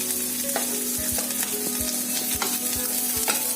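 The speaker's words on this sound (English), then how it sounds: "we will put the chopped onion in it to saute" Chopped onion sauteing in oil in a pan, a close, steady sizzle with repeated thuds and scrapes from stirring at a fairly even rhythm, no voices.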